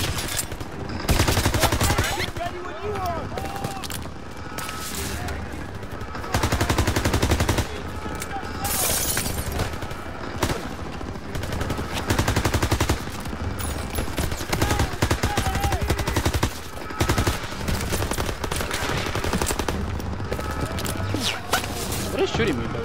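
Enemy soldiers fire rifles and machine guns in Call of Duty WW2, with sharp single shots and rattling bursts repeating close and loud throughout, while a player talks over the battle.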